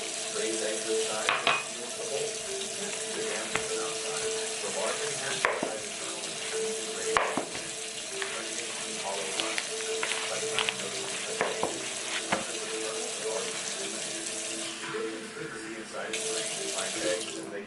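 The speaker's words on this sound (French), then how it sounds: "Et on va mettre de l'eau. De l'eau un peu tiède, hein? Tiède chaude. On ajoute l'eau." Lukewarm water runs steadily into a bowl for homemade flour tortilla dough, a continuous close pour with a few small clinks and splashes, no talking over it.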